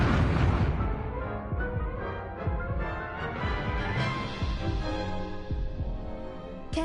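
An Incendio fire spell goes off in Hogwarts Legacy as a sustained, throbbing low rumble with a layered tonal whoosh. It stays steady and fairly loud for several seconds, with no speech.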